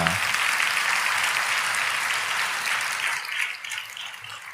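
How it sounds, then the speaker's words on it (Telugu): Sustained applause from an audience at a Christian sermon, steady and fairly loud, continuing for several seconds before thinning slightly toward the end. "మరి చప్పట్లు కొట్టాలి కదా ఇక్కడ"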